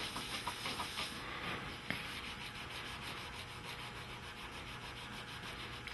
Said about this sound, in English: rub off the excess first as much as you can, and then in a circular motion, polish it